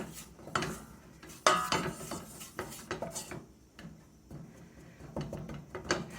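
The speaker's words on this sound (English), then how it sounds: "you're just going to want to stir this together until they combine really well" Flour and margarine stirred together in a pot, a spoon scraping and rubbing against the bottom in steady, fairly quiet strokes with occasional knocks.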